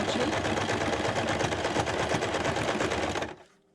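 A sewing machine running an overlocking stitch along a minky quilt edge: a steady, fast mechanical whir and tapping held loud and close for about three seconds, then stopping abruptly.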